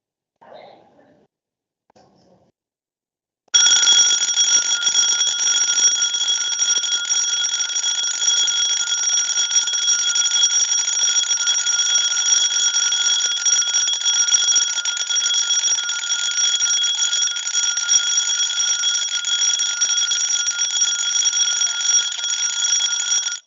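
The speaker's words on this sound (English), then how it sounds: "We are going to ring the bells, honorable members, so that we can go to the voting." Division bells in the KwaZulu-Natal Legislature chamber ring to call members to a vote. The tone is loud, steady and continuous, with a bright electric buzz lasting about twenty seconds after a brief murmur of voices.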